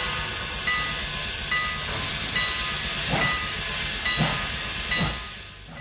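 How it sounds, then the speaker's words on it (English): Mogul steam locomotive number 89 in Trainz 2019 hisses steadily, with the broad rush of escaping steam. Soft rhythmic chuffs repeat about once a second over a constant rumble. "Our locomotive today is Mogul number 89."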